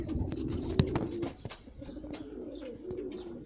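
Soft, low pigeon coos from many birds, including young ones, repeat steadily in the background, with occasional wing flutters, taps and faint chirps nearby.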